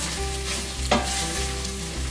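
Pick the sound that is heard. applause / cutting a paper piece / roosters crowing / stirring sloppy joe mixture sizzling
stirring sloppy joe mixture sizzling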